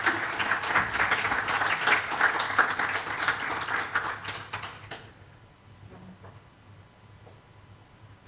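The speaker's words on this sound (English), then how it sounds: "A round of applause for them" Applause for the organizing team at an annual meeting, a dense patter of many hands filling the room for about five seconds, then thinning out and fading into quiet room tone.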